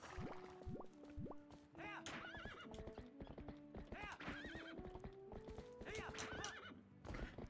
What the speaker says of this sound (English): You did it again, you stupid horse!